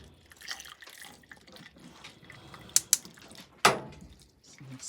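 Hot milk, just off the boil, poured over a hot cocoa bomb in a mug, giving soft liquid splashing and dripping with a couple of sharp clinks near the end.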